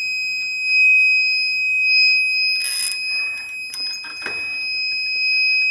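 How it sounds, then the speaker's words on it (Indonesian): A door alarm buzzer sounds automatically as the door opens, a loud, steady high-pitched electronic tone that holds throughout, with brief clunks and rustling of the door under it. "ketika pintu dibuka seperti ini, buzzer ini langsung berbunyi secara otomatis ya"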